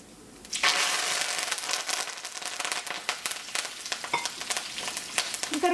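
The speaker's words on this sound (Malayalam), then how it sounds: "ഇനി ഇതിലേക്ക് കറിവേപ്പില ചേർക്കാം." Curry leaves hit hot coconut oil where mustard seeds have already popped, for a Thiruvathirai koottu: a sudden loud sizzle bursts out, then settles into a dense, steady hiss with sharp crackles and spits, and no voices.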